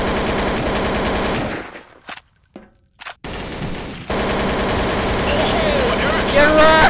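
Rapid automatic gunfire rattles loudly in Counter-Strike: Source, breaks off into a brief near-silence, then resumes in sustained bursts with sharp metallic ricochet whines near the end.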